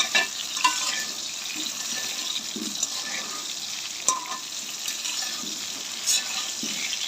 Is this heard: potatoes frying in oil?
yes